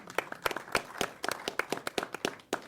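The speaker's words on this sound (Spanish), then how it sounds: "Un aplauso para Marcelo, por favor." A small audience at a labor and geopolitics meeting gives a brief round of applause for a speaker, with individual claps clearly separated in a quiet, irregular rhythm.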